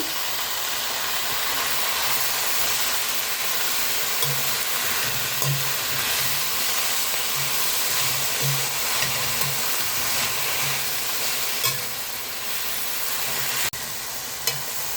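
Ponnanganni spinach sautéing in an uncovered pan gives a steady, loud sizzle and hiss, with soft intermittent stirring scrapes over the frying.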